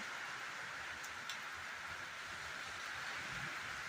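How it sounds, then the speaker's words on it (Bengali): Steady rain with strong gusting wind outdoors in the early morning, a dense continuous hiss filling the whole stretch at an even level, with no voices present. "দেখো কেমন বৃষ্টি হচ্ছে চারদিকে, হাওয়া দিচ্ছে"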